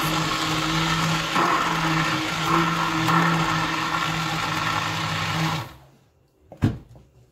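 A blender grinds food into a thick purée with a loud, steady whirring drone for about five and a half seconds, then cuts off, followed by a short knock.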